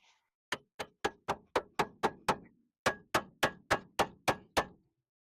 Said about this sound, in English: stick that right there and just hammer it.